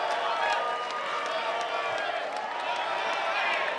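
Debate audience applauding at the end of a session of an Indonesian presidential debate, a steady broadband wash of clapping and crowd noise filling the hall from start to finish.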